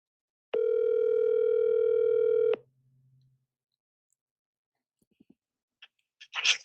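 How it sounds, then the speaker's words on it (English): A phone call sounds a single steady telephone tone for about two seconds, clear and loud, then cuts off into near silence broken by faint clicks and rustling handling noises. "I'm going to call him on the phone."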